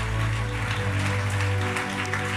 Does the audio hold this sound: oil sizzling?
no